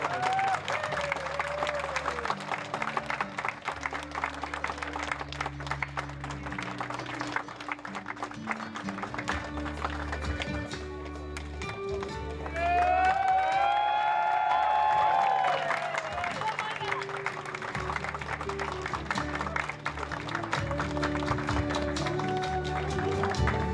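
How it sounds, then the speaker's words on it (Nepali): An audience claps at the inauguration of a new mandala, a sustained patter of applause that swells and thins, with music and voices running beneath it and some tonal singing-like sounds in the middle. "उद्घाटन भइरहँदा संसारले सुन्ने गरी ताली बजाइदिनु होला।"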